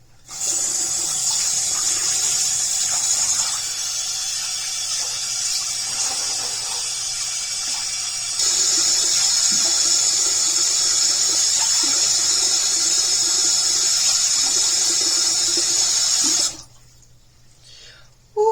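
Tap water runs steadily into a sink while someone rinses a face product off, a continuous close splashing hiss that shifts in level midway and cuts off near the end.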